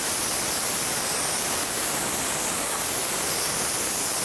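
Compressed air blows at high pressure in one unbroken, loud hiss that runs the whole time, clearing loose glitter flake off a painted surface, with no voices over it.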